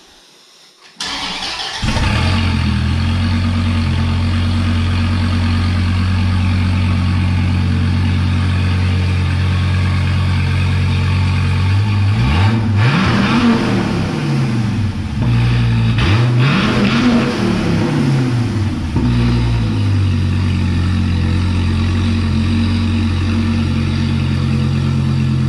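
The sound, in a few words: Gen 5 Dodge Viper engine running and revving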